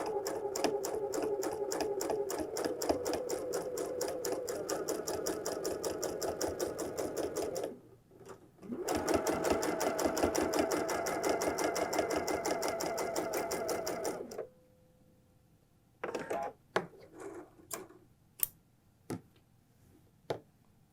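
A sewing machine stitches a Hong Kong seam in fast, even runs, pausing briefly before a second long burst, then stopping with a few scattered clicks and handling taps, close and loud.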